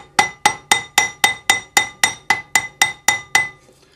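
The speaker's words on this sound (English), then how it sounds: "with my French jeweler's hammer." A French jeweler's hammer taps cross-hatch texture into a metal ring: about a dozen bright, ringing metallic strikes at an even, quick rhythm, close and clear, then a brief quiet tail.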